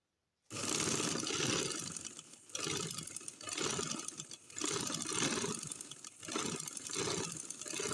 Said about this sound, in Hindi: तो यहाँ पे आप कपड़े को फोल्ड करते हुए किनारे किनारे के ऊपर सिलाई लगा दीजिए।